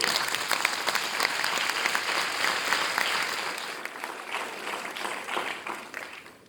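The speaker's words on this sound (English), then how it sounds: "A big round of applause to all of you." Audience at a school awards ceremony breaks into sustained applause, a broad steady roar of many hands clapping that fades slightly toward the end, with no talking over it.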